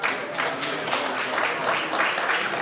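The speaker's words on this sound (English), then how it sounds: "Give Energy a round of applause for coming out as well." A crowd applauds at a community meeting, steady clapping from a roomful of people at moderate level, brief and continuous.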